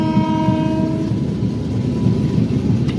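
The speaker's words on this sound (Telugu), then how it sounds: "బ్యూటిఫుల్ వ్యాప్ 7 లోకోమోటివ్ అయితే వస్తుంది అనమాట" An Indian Railways WAP-7 electric locomotive rumbles steadily nearby as it arrives, with a brief sustained horn tone at the start, then a continuous low rolling roar.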